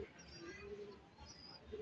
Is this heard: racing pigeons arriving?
yes